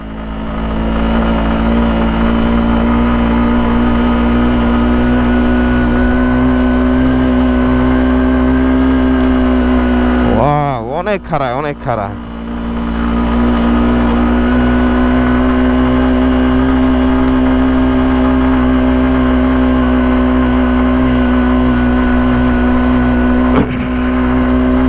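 A motorbike climbs a rough, badly broken hill road in the hills between Bogalake and Keokradong, its engine a steady, close drone that dips briefly midway, with a few words spoken over it.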